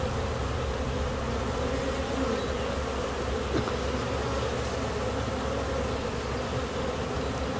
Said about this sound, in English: I did a pretty decent job of getting a lot of bees in the bucket